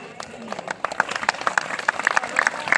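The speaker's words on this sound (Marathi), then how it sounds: "कृपया जोरदार टाळ्या द्या." A village fair crowd claps for a young girl, a fast, uneven patter of applause that builds toward the end, mixed with a voice speaking over it.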